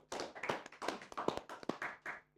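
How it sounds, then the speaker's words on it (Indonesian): A small group claps their hands in a quick, uneven rhythm, quiet and close, with no voices over it. "Tepuk tangan dong."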